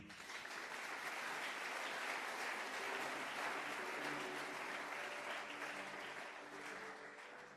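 A church congregation applauding during a pastor's sermon, with dense, sustained clapping and cheering that fills the whole stretch at a steady level.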